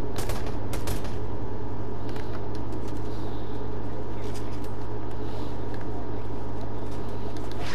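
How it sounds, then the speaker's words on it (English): Rapid gunfire in a Fortnite match: loud, dense volleys of shots crackle continuously for several seconds over a steady vehicle-like drone, with no clear talk. "Somebody shooting us from behind."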